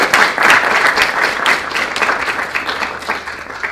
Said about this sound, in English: So we want to go ahead and thank our panelists and give them like a giant round of applause.